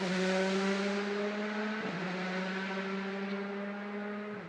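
WRC rally car on the rough Panzerplatte stage of Rally Germany, running on Michelin hard compound tyres, its engine holding a strong steady note with a brief dip around the two-second mark, heard fairly faint as it drives on.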